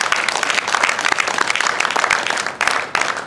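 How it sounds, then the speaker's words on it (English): A conference audience bursts into loud, dense applause, a steady wash of many hands clapping close and unbroken for a few seconds, no speech over it. "But if you want to clap, clap very well."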